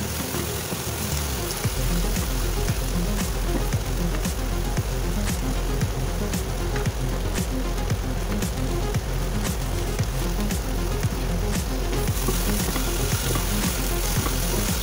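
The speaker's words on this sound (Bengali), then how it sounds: "ভাজা করছি।" Okra frying in a pan with turmeric and Kashmiri chilli powder, a loud continuous sizzle with regular clicks of stirring throughout.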